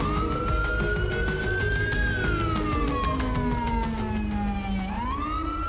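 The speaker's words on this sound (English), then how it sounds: "let's kill the siren ourselves if we don't get call outs" A police car siren in the video game LSPDFR wails continuously, its pitch sweeping slowly up and down, loud and close, with no talking over it.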